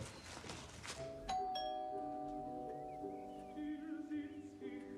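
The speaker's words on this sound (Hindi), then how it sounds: "घंटी बजाओ, अभी भी सो रहे हैं।" A doorbell chimes loudly, its bright tones ringing out and slowly decaying over a steady background hum.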